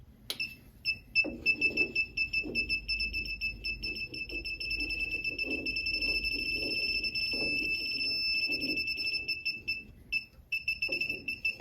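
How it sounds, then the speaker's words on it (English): A handheld circuit breaker finder receiver emits a continuous high-pitched electronic tone that wavers and briefly breaks near the end, close and clear, while soft clicks and handling noises occur underneath. "the second pass, it'll beep on the right breaker."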